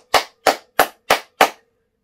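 Five loud, crisp hand claps come one after another at an even, unhurried pace. They are close and isolated, with silence between them, like a clapping demonstration at a live drum event.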